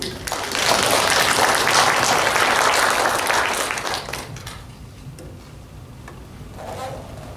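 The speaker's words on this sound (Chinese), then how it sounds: "那我们就以最热烈的掌声来欢迎他" An audience in a public lecture hall breaks into warm applause to welcome a lecturer. The full clapping swells for several seconds, then thins out and fades into room quiet.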